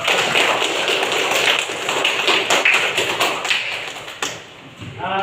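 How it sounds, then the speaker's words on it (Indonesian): A classroom group gets a round of applause, with dense steady clapping that thins near the end before a voice briefly speaks. "berikan dulu aplaus untuk kelompok"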